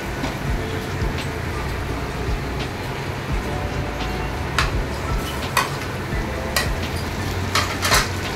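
Cashew nuts sautéing in a pan for paneer butter masala, a steady, dense sizzle and rustle with sharp clicks and scrapes of a spoon against metal, growing more frequent near the end.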